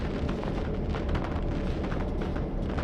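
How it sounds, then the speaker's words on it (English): Fireworks pop and boom outside on the Fourth of July in a Train Sim World 3 scene on the Santa Fe line, a dense, rumbling barrage of bursts that keeps going without a break. "We got the fireworks going outside."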